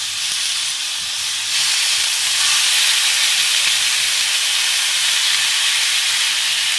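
Chicken skewers sizzle in an oiled pan, a loud, steady close-up hiss of frying that swells slightly after the first second and holds, with no voices over it.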